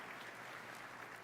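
An audience applauds at a live event, a dense steady wash of clapping that sounds faint and distant, continuing evenly throughout.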